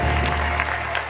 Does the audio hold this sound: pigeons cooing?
no